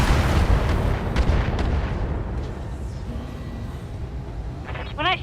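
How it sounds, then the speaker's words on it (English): Weapon fire from a precision strike on a mech's center torso in BattleTech, a dense run of booming, explosive blasts that starts loud and rolls on steadily to the end, with brief chirping effects near the close. "so let's actually do precision strike on the center torso."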